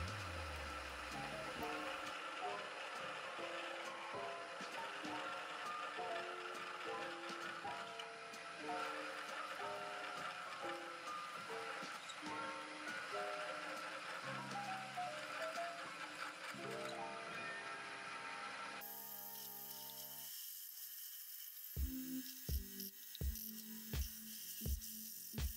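A drill bit bores holes out to 1/2 inch through 1/4 inch steel plate, giving a sustained mechanical whirring grind with shifting tones, then a sharp stop followed by a few separate clunks near the end.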